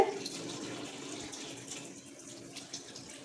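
Tap water running steadily from a faucet as hands are washed, a continuous close rushing flow with no talk over it.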